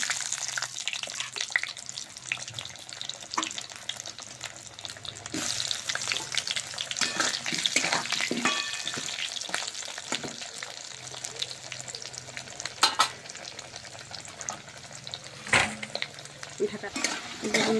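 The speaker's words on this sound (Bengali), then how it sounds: "এবার আলুগুলো ভেজে নেব।" Potatoes fry in oil in a pan with a steady moderate sizzle, broken by stirring scrapes and clinks and a few sharp knocks, with a hint of running water at times.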